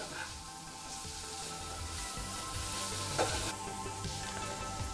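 Prawns stir-fry in a pan for a Kerala-style prawn fry, giving a continuous close sizzle with occasional scraping stirs and one brief clink, with no voices.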